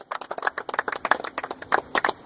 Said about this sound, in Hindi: सबकी बहुत जोरदार तालियां हैं